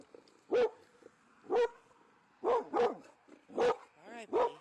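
A dog barks outdoors in short, loud bursts, about six of them spaced irregularly, with faint low whines between.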